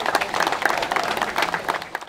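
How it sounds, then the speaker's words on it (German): Crowd at a traditional 24-hour swim event in the Querfurt municipal pool applauding, a brief burst of scattered clapping with sharp individual claps, moderately loud and fading out at the end. "das ist zunächst ein großen Applaus wert"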